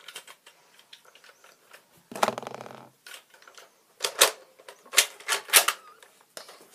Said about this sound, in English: And just load the two darts in.